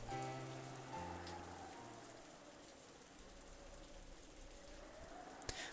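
Steady rain patters over a rose garden in the visual novel Umineko, a soft continuous hiss with low tonal music underneath and a sharp click near the end.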